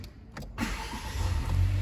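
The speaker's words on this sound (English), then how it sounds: "we'll just pop the key in and just start the engine up" An MG ZS 1.5 VTi-TECH petrol engine is started with the key: a few brief starter clicks and whirs, then the engine catches and settles into a steady idle that swells a little louder.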